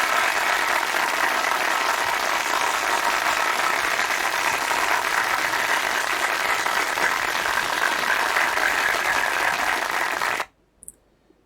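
A large crowd applauds in a dense, even roar of clapping that holds steady for about ten seconds, then cuts off abruptly into near silence with a faint knock or two.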